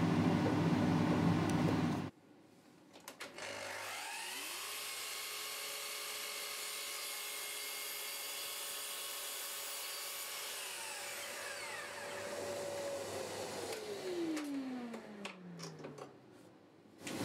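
A piece of wood, about 4 1/4 inches long, is cut with a power tool for a French cleat clamp rack, a steady whining tone that holds for about ten seconds, then drops in pitch as the tool winds down.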